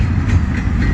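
A CN freight train rolls past close by, a loud, steady rumble with rail noise and faint clatter and no speech.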